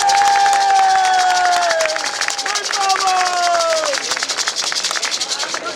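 Audience at the opening of a San Francisco arts venue cheers and applauds, a dense crowd roar with whoops and shouting voices, loud and close, clapping texture underneath throughout.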